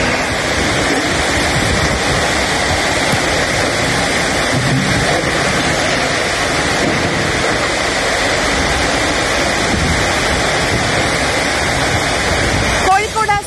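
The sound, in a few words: heavy rain in Kerala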